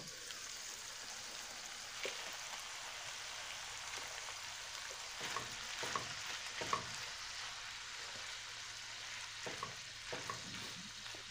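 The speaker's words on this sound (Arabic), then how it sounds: "فضلت كده اشوح في البصل مع اللحمه لحد ما دبل خالص" Onions sauté with meat in a pot, giving a soft, steady sizzle with occasional scraping strokes of a stirring utensil. The sound stays fairly faint and close, with no talking.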